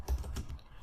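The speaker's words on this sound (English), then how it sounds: "I'm going to do that by typing" A few quick taps on a computer keyboard while a Kubernetes command is entered, close and soft, with no talking.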